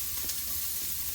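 Onion frying in olive oil gives a brief, steady sizzle, a soft even hiss heard alone at close range.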